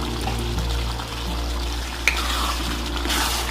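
Pasta is stirred into a sizzling spice mix for spicy chicken pasta with colorful bell peppers, making a steady close fry and sizzle with soft stirring scrapes and one sharp clink near the middle.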